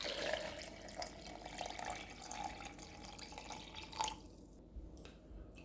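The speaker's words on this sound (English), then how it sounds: "Add some water." Water trickles and drips into a pitcher holding a homemade ginger, berry, pineapple and lime drink, a steady faint stream with a few brighter splashes, ending in quiet.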